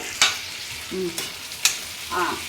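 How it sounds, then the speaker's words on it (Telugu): Onions and tomatoes frying in oil for a fish curry give a soft sizzle, broken by a few sharp scrapes of a utensil against the pan and light clatter, close and quiet with no talking. "ఆనియన్స్ ఈ టమోటాస్ కూడా బాగా ఆయిల్లో ఫ్రై అవుతున్నాయి"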